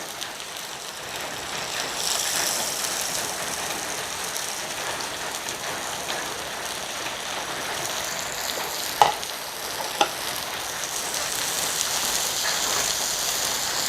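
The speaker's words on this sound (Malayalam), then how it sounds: "ഇനി നമുക്ക് നമ്മുടെ ചെറിയുള്ളി ഇട്ട് കൊടുക്കാം." Small shallots sizzling steadily in hot oil in a pan for a tomato chutney, a dense continuous crackle with a couple of sharp taps partway through and no talk.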